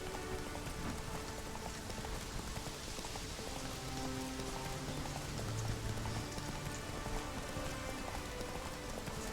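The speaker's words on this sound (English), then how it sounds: "Hey, I love the rain." Steady rain in The Witcher 3, a dense, even hiss of drops on surfaces that keeps constant loudness throughout, with faint clopping hooves underneath and no voices.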